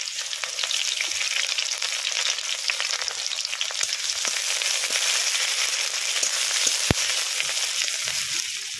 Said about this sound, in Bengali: তেল গরম হয়ে গেছে, তেলের মধ্যে দিয়ে দিচ্ছি কুচনো পেঁয়াজ